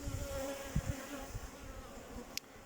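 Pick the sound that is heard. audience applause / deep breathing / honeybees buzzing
honeybees buzzing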